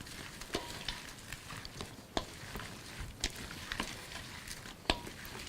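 Autumn apple slaw being stirred and tossed with a creamy white dressing, giving soft, irregular wet clicks and scrapes of a utensil against a bowl, close and fairly quiet, with no talking.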